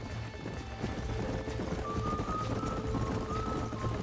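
Horse hooves clip-clop steadily in the Western video game Red Dead Redemption, a continuous trotting rhythm set against a low background bed with a faint sustained tone.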